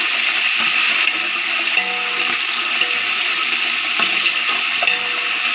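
Water splashed into a pan of fried onions while cooking a chana pulao, giving a steady loud hiss and sizzle throughout with faint clinks, no talk.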